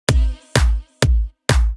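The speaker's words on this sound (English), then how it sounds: "we just have a kick, a clap, I think there's two claps, and we also have a top kick, which sound like this" An electronic drop drum pattern of a kick layered with two claps and a top kick, striking four evenly spaced, punchy hits with booming low ends and bright snaps, each ringing briefly before a gap, with no voices.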